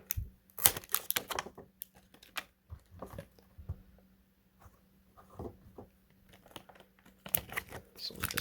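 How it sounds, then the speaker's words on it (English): A 1997 Power of the Force Princess Leia action figure is popped out of its plastic blister pack with scattered crinkles, crackles and sharp clicks, fairly quiet and close, with pauses between bursts. "So we just pop the action figure out here."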